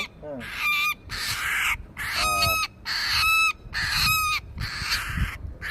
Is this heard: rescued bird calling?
yes